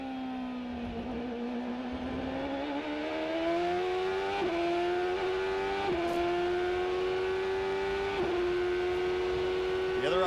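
A 2003 Champ Car race car with a turbocharged Ford engine accelerates hard through the gears in Montreal, its steady rising drone stepping up at a few brief shifts, loud and close with faint talk in the background.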